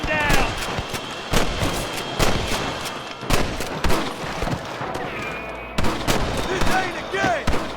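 Gunfire in a Red Dead Redemption shootout: a steady series of sharp, loud rifle and pistol cracks, roughly one every half second, with short shouted voices mixed in between shots.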